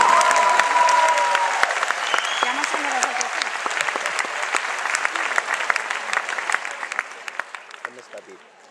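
Crowd applause for a dance school troupe after its performance at a gathering in Port Aventura, loud and steady at first, then slowly fading toward the end.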